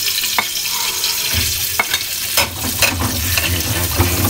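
Dried anchovies (dilis) fry in a pan for ginataang papaya, a loud, crackling sizzle with sharp spattering pops and stirring scrapes, close and continuous without speech.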